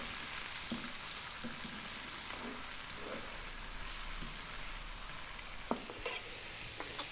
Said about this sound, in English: those onions and garlic cooking really nicely